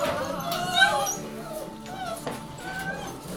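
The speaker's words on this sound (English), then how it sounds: "The sound might be annoying with all of them barking at once" Several puppies yip, whimper and bark together in a busy, overlapping chorus of high, thin cries close by, with a brief louder yelp near the start.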